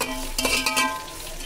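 Sliced onions are stirred while frying in a pot of oil for chicken biryani, with a quick scraping stir and a soft sizzle heard up close over a short stretch.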